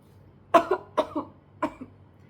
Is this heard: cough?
yes